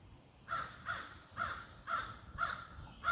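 A crow caws repeatedly, about six harsh calls spaced roughly half a second apart, fairly close and clear against a quiet outdoor background in a forest in the USA.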